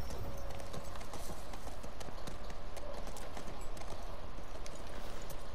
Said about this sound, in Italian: dobbiamo far passare il cavallo